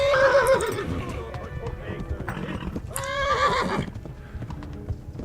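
Horse in the medieval game Kingdom Come Deliverance, left exhausted after hard riding: hoof clip-clops and loud neighs and whinnies, with a strong whinny near the middle of the clip, and speech mixed in.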